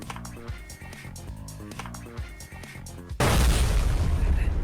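An explosion goes off in a fan-made movie scene as a sudden loud, wide boom of noise that cuts in abruptly and keeps rumbling. A busy stretch of music and sound effects comes before it.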